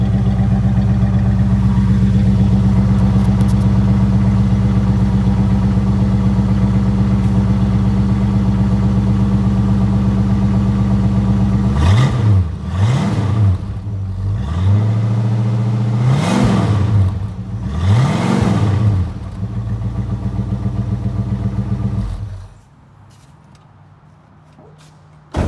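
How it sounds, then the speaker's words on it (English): A 1965 Ford Mustang Fastback GT clone with dual exhaust idles loudly and steadily, then revs up sharply four times before settling back and shutting off, with no voices. "I'm gonna fire it up and let you hear it running."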